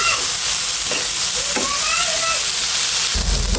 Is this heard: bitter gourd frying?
yes